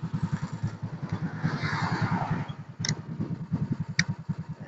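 A stock motorcycle, freshly reset, idles and runs with a steady rapid engine pulse and a mechanical ticking, close by; a couple of short clicks stand out along the way and no one talks.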